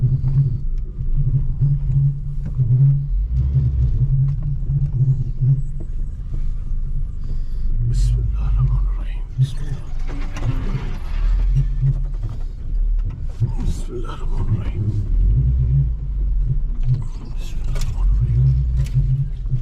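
A car rumbling and jolting along a badly broken road, a continuous heavy low rumble with mechanical rattles throughout, loud and close from inside the vehicle.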